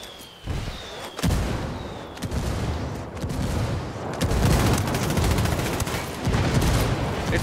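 Gunfire and a grenade blast hit a troop convoy in Ghost Recon Wildlands, with loud sustained bursts of rifle fire and heavy booming crackling together, close and continuous with no talk.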